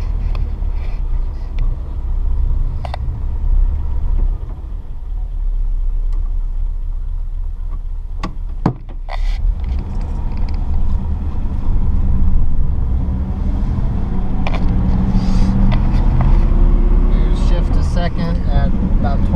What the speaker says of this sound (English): I have the idle set at about 550 RPM, which feels perfect for this motor.